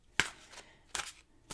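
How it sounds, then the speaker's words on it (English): Tarot cards being shuffled and dealt during a reading, three quick crisp papery snaps spaced about a second apart, close and fairly soft with no talk. "I'm going to shuffle and deal you"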